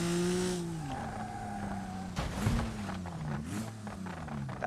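An Ibishu Claria wagon in a driving-simulation video game crashes: engine drone with falling pitch, then a sharp impact crunch around the middle followed by scraping, tire noise and further thuds.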